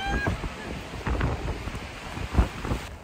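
Strong wind gusts buffet a stormy campsite in central Oregon, roaring broadband bursts that swell and fade with low rumbling microphone buffeting, one especially loud gust near the end.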